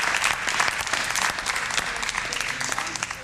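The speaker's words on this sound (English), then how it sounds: "They got to clap for her, our new president." A late-night TV studio audience bursting into warm applause that holds steady before easing off, with a faint voice underneath.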